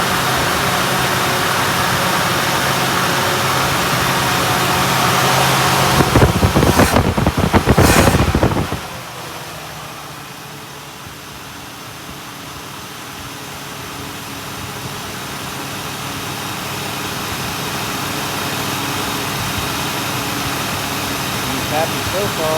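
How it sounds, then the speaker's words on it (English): A 1961 Buick engine with a newly fitted Edelbrock carburetor idles steadily after a cold start, a constant rumble with a louder burst of revving early on before it settles back into an even, continuous idle. "Cold start right out of the box."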